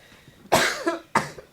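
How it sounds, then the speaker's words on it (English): Two sharp, close coughs from a person, the first longer with a rough tail, the second following about half a second later, with a quiet room otherwise. "I've got the hiccups and I've got a cough."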